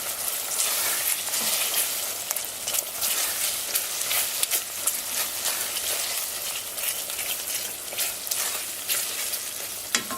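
Beef stroganoff ingredients sizzling and being stirred in a frying pan, a steady close crackle of frying with bursts of scraping and stirring.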